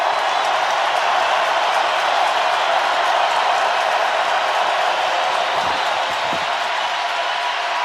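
A packed NFL stadium crowd at a Steelers–Saints game in New Orleans roars continuously, a dense, loud wall of noise with no letup across the whole stretch.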